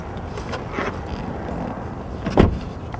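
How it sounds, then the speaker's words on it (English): Car door locks clicking shut, a quiet interior hum with a muffled mechanical movement, then one sharp thunk of the locks near the end, close and fairly loud. "And then she locks me in the car."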